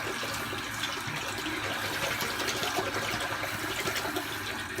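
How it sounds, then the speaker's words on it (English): Tap water steadily running into a bathroom sink that leaks and drains away, a continuous broadband splashing rush filling the space at even loudness with no speech. "The sink keeps leaking out water and going back down the drain, so I have to keep filling it up."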